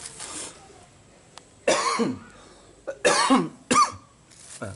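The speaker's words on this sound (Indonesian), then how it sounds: "Batuk" Several harsh, close coughs burst out one after another, separated by brief quiet pauses.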